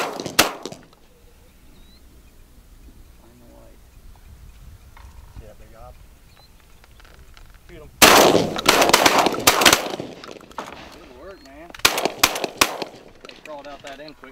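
Gunshots crack out during a pigeon hunting contest, a sparse shot or two early, then loud bursts of repeated shotgun blasts in clusters later, with excited voices of hunters talking and shouting over the firing.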